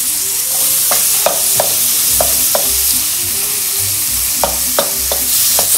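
A spatula repeatedly chops fish into fine pieces in a pan, irregular knocks and scrapes over a steady frying sizzle.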